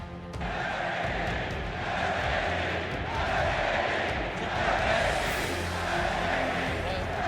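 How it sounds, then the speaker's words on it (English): A large crowd at the League of Legends 2016 World Championship final roars and chants steadily for SKT, a dense wall of voices filling the space without pause. "the crowd erupting in chants for SKT"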